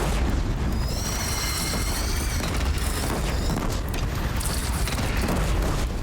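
Loud, continuous rumbling booms of indirect-fire explosions in the video game Horizon Zero Dawn, dense and overlapping for the whole stretch with bright crackling debris on top.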